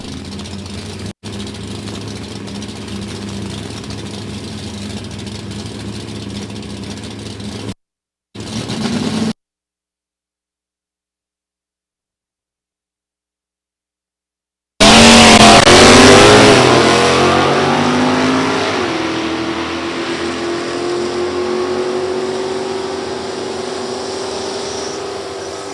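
Drag race cars launching at Gateway Motorsports Park during an NHRA Division 3 event, a 351-powered Mustang among them. Engines idle loudly and then cut out, followed by a sudden loud launch roar that fades slowly as the cars pull away.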